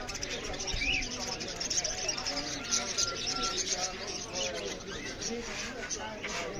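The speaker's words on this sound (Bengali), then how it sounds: "আমরা পাখির হাটে চলে আসলাম" Many birds chirp and coo continuously amid a busy crowd, with people talking throughout in a noisy, bustling market.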